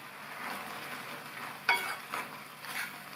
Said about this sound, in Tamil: உப்பு சேர்த்து நல்லா கலந்து விட்டாச்சு.